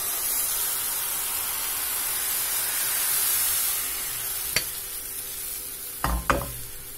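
Crepe batter sizzles steadily in a hot oiled frying pan with a bright, constant hiss, broken by a few sharp clinks near the end.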